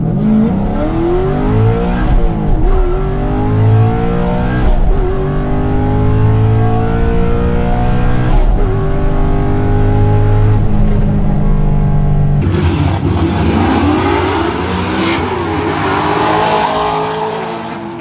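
A twin turbo Camaro fitted with a velocity stack accelerates hard down a race track, its loud engine note rising repeatedly through several gear shifts before tire and road roar take over near the end.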